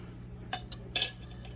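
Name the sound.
spoon scraping seeds out of an apple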